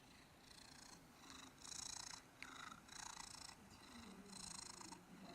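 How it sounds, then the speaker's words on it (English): A cat purrs close by, quiet but distinct, in rhythmic bursts that rise and fall with each breath over a few seconds. "that's one of our cats"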